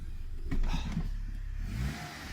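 A 14-year-old Mercedes A140 with a four-speed automatic pulls away, a mid-pitched engine note rising briefly in revs then easing off, close by and moderately loud with no talk.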